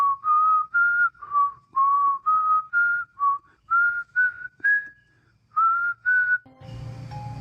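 A lone human whistler carries a slow, melodic intro tune from the XY movie in a string of clear, separate phrases, with a few short gaps, before another sound cuts in at the end.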